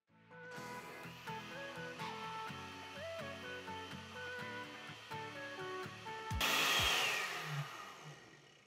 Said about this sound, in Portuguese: Vamos aqui ligar o nosso liquidificador, bater por pelo menos 2 minutos aí